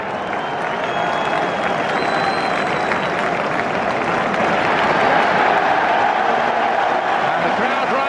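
A large football stadium crowd at an Arsenal versus Chelsea match applauds and cheers in a dense, sustained roar that holds loud and even from start to finish.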